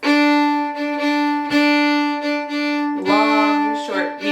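Solo fiddle bowing a jig rhythm in a long-short-medium pattern, played slowly with clear sustained notes and a few bow changes, near and fairly loud with no talking.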